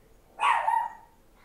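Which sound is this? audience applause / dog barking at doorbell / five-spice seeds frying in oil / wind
dog barking at doorbell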